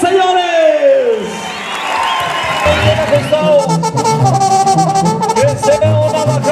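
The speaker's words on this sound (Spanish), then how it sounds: "Este público les va a dar el más grande de los aplausos a Jinete y Ganadero" A rodeo crowd in Texcaltitlan, State of Mexico, cheers, whoops and applauds loudly and steadily for a rider and a ranch, with shouting voices mixed through the noise.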